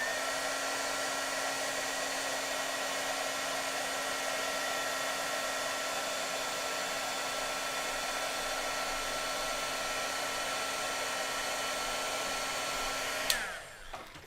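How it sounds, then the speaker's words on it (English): An embossing heat tool blows a loud, steady whirring hum while it heat-sets white embossing powder on a stamped card. It runs unchanged until it switches off near the end and its whine drops away quickly. "we'll go in with our heat tool and heat set this until it is nice and bright white"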